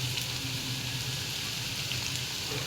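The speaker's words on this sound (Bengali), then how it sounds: "তো রান্নার জন্য আমি তেল গরম করে নিয়েছি। এখন এখানে পেঁয়াজ কুচি দিয়ে দিচ্ছি।" Chopped onion and ginger paste frying in hot oil for a potato and pangas fish curry, a steady low hiss and crackle of sizzling throughout, fairly quiet and even, with no voices.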